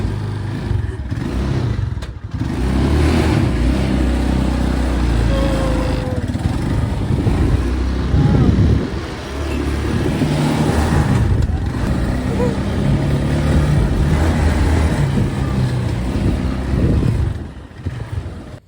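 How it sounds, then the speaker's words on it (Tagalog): A Philippine motorcycle tricycle engine runs loudly and steadily through a ride, a rough droning rumble with wind buffeting and brief dips as it slows. "my dad is gonna drive me around the tricycle"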